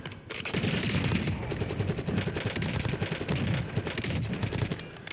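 Sustained automatic gunfire from a low-recoil rifle at a shooting range in the video game Warzone, a dense continuous rattle of rapid shots, loud and close, with no talking.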